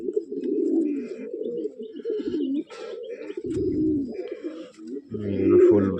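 Pigeons coo in low, rolling, repeated calls close by, with a few faint chirps scattered in the background.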